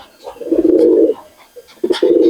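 Pigeons from a breeding pair in a loft coo in two deep, throaty bursts, close and fairly loud, separated by a brief pause with faint chirps.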